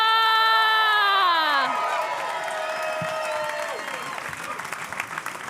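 Audience applause and cheering for comedian Nish Kumar at a comedy show, a loud sustained crowd roar with claps and whoops under a strong musical tone that fades after a couple of seconds.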